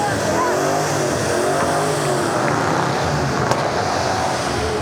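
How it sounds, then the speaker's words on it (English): Engine noise from a Chevy Camaro rolling past in an outdoor antique car and tractor parade, a steady broadband rumble with crowd chatter and voices mixed in throughout. "And here comes a Chevy Camaro"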